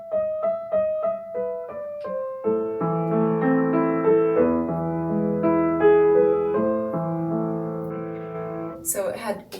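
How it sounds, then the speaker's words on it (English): Acoustic piano played with a gentle half sustain pedal: a run of short detached notes gives way to softly sustained, overlapping chords that ring moderately rather than fully, close, ending with a brief noisy burst. "if I'm just going to do like a really gentle pedal, it would sound like this"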